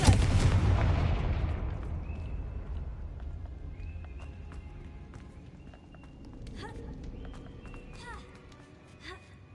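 A Confringo fire spell in Hogwarts Legacy, a loud booming blast at the start that rolls off into a fading rumble, followed by quieter game sounds and chimes.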